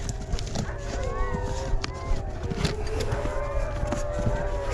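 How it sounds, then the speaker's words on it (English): Many dogs at a boarding kennel bark and yelp from a distance, with a layered, overlapping chorus that carries on under a steady background rumble. "It's a boarding kennel here with a bunch of dogs in it, so that's why you hear them barking"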